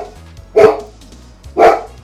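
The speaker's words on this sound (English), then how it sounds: "do you hear her barking?" A pet dog barks indoors during a live stream, two sharp separate barks about a second apart, loud and close over faint background music.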